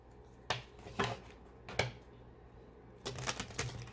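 Tarot cards being shuffled in several short bursts, crisp riffling snaps spaced apart, with a quick double flurry near the end; close and otherwise quiet.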